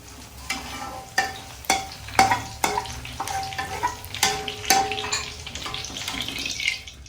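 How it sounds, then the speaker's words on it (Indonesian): Shallots and garlic sizzle and crackle in hot oil while a utensil stirs and scrapes the pan in a loose, repeated rhythm. "Dilanjutkan dengan menggoreng bumbu yang mau diulek. Bawang merah dan bawang putih saja."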